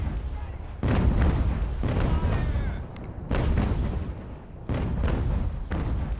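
Artillery guns in Ultimate General: American Revolution fire a run of heavy booms, about five blasts at irregular intervals. Each blast is followed by a rumbling decay, with faint crackle between them.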